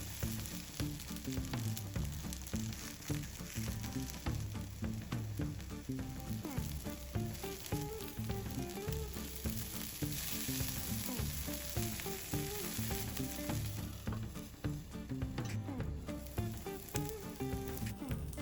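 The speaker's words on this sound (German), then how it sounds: "Sie hören, wie der Käse leise zischt." Cheese sizzles steadily in a covered frying pan with a zucchini pancake, a constant soft crackling hiss that runs unbroken throughout with no voices.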